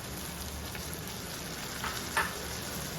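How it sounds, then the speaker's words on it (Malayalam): Chopped tomatoes go into a pan of brinjal curry frying in Kerala style, giving a steady soft sizzle throughout with a brief brighter hiss near the end, no voices. "നമുക്കിതിലേക്ക് അരിഞ്ഞു വെച്ചിരിക്കുന്ന തക്കാളിക്ക് അവിടെ ചേർക്കാം"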